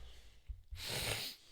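A single close sneeze: a quick intake of breath, then a forceful, hissing burst that fades over about half a second in a quiet room.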